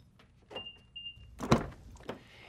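A Mitsubishi RVR unlocks without a key after the black button on the door handle is pressed: light clicks and a brief whine lead into a firm mechanical clunk of the locks, then a softer click.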